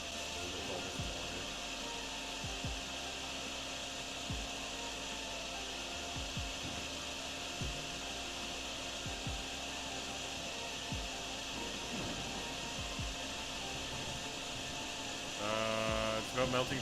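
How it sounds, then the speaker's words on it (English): A steady, droning vacuum hum runs throughout as water is sucked up in a video game, with brief low thumps scattered through it and a harsher burst near the end. "Use the vacuum to help with all this water."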